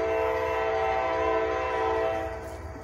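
A westbound CSX freight train passes at a road crossing in Ohio, a loud steady rumble with sustained horn-like tonal drone throughout, fading slightly near the end; no talk.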